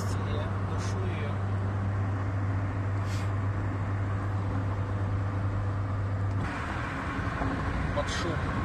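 Steady broadband wind roar and road rumble inside a car cruising on a highway toward Los Angeles, with a constant low hum that shifts partway through; continuous and fairly loud with no talk.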